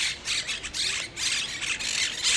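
Parrots squawk from their nests in a pine tree in a Barcelona park, a rapid series of loud, harsh, overlapping calls in repeated bursts, close by.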